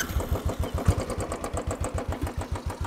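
A Royal Enfield Classic 500 motorcycle's single-cylinder engine idles close by with a steady, even thumping pulse, loud and alone.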